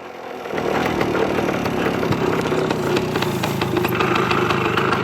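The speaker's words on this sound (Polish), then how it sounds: "Coś sprzęgło hałasuje." A farm tractor engine idles with a noisy clutch. It begins abruptly and then holds a loud, steady, rattling drone up close, with no voices.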